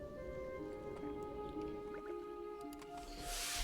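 Gnome mage conjuring water in World of Warcraft Classic hardcore, a soft liquid swirl and dripping squish rising into a bright shimmering wash near the end over steady game music.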